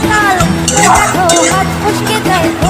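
Spices sautéing in a pan for alur dom, a Bengali potato curry, with a steady sizzle and scraping and clinking of a spoon against metal, all under music.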